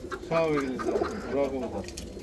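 Pigeons of old established lines coo close by in soft, throaty bursts, with a voice talking faintly underneath.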